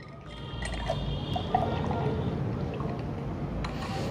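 Whey protein mix poured with water into a shaker, a continuous close liquid pour and trickle lasting several seconds with a brief clink partway through.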